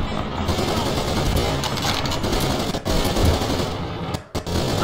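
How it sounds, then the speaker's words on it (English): Machine gun fire in the World War II video game Call of Duty: The Big Red One, heard as dense, continuous rattling bursts across the clip, with brief gaps near three and four seconds. "Now we have to take out that machine gun!"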